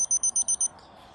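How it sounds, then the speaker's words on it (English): An alarm beeps in a quick run of six short, bright, evenly spaced pulses, then stops, leaving quiet outdoor background. "There's my alarm."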